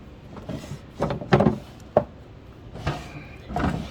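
Wooden drawer of a Martha Washington sewing stand being pulled open, with several short scraping slides and a couple of sharp knocks in close succession, nearby and fairly loud.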